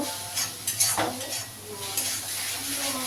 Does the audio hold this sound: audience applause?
no